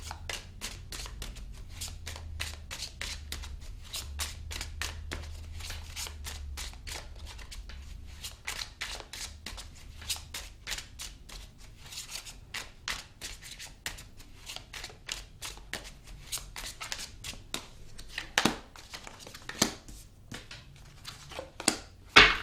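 Tarot cards shuffled for clarifier cards, a long, steady stream of crisp, rapid card flicks and slides close to the mic over a low background hum, growing a bit louder and more uneven toward the end.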